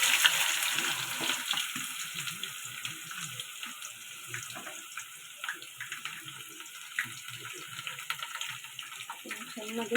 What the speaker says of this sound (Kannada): ಚೆನ್ನಾಗಿ ಫ್ರೈ ಮಾಡ್ಕೋಬೇಕಾಗುತ್ತೆ